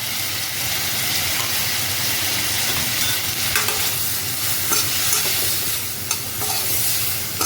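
Tomatoes with salt cooking on full flame while being stirred: a continuous dense sizzle and frying hiss, close and loud, with faint occasional scrapes of the spoon and no talking.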